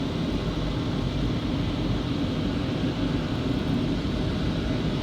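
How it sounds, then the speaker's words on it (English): A WashTec FlexStream rotary roof jet dryer blowing at a car wash, a loud steady broadband roar of rushing air that holds evenly throughout without a break. "The dryers are starting. And here comes the FlexStream dryer, rotary roof jet"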